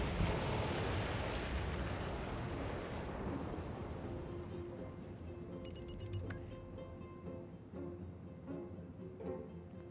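Building demolitions in the SimCity city-builder game: a loud rumbling explosion at the start trails off into a long dry decay, followed by faint clicks and soft tonal game sounds.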